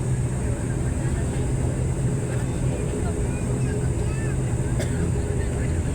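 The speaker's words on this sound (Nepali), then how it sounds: "प्लेन हिँडिसक्यो म झ्यालमा थोरै भिडियो गर्दैछु है" Steady engine drone inside a passenger airplane taxiing on the ground before takeoff from Kathmandu, a constant low hum and whine with faint cabin noise.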